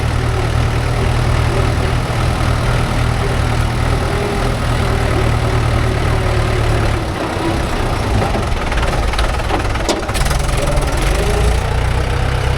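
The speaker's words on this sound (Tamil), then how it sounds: "பின்னாடி வண்டி வருது, அது இதில் தான் வருது" A tractor engine rumbling close by during lake soil loading alongside a JCB 3DX backhoe, heavy low chugging that holds steady throughout, dips briefly, then rises again toward the end.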